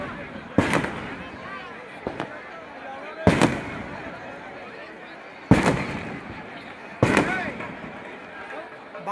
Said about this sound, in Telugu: బాణాసంచా కాల్పులు ఒకవైపు